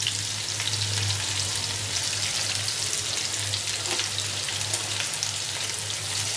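Spring onion sizzles steadily as it sautés in a pan for chicken in green gravy, a continuous close frying hiss over a low hum, with no talking.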